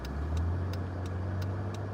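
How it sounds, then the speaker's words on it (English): Dense road traffic in Abbeville, with a steady low engine hum from nearby vehicles and a regular ticking, like a turn signal, repeating about every third of a second. "I have never seen this much traffic, bro"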